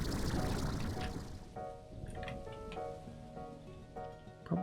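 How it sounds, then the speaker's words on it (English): Rain falling in the video game Slime Rancher 2, a soft steady patter under faint chiming game tones, heard without voices. "it's raining"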